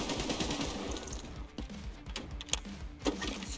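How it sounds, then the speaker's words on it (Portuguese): Rapid automatic gunfire in the shooter game Escape from Tarkov, dense bursts crackling close and loud with a few sharper single shots toward the end. "Tem outro lá no final ainda me atirando."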